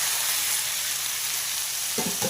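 Squid sizzles and fries steadily in a hot pan while being sautéed for a Kerala-style squid thoran, a dense hiss with a few stirring knocks near the end.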